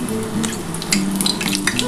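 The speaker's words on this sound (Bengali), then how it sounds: "এবার এই তেলের মধ্যে আমি ভেজে নিচ্ছি।" Rolled semolina luchi frying in hot oil, a continuous bubbling sizzle with crackling spits and faint pan clinks, close and steady throughout without talk.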